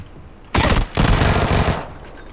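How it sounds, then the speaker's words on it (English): Bursts of automatic gunfire in the battle royale game PUBG, a loud rapid volley starting abruptly, a brief gap, then a longer sustained string of shots that tails off. "I just heard one gunshot."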